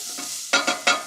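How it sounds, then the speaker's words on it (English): Onions and pancetta cooking together in a pan, a soft sizzle broken by three loud stirring scrapes and bursts of frying in the second half, with no talking. "Next, I'm going to add some onions to this pan, and we'll let those cook right along with the pancetta."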